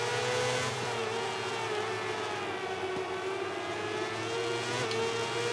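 Engines of racing motorbikes roaring down a straight in MotoGP 18, a steady loud high-pitched whine that holds its pitch, with no talking over it.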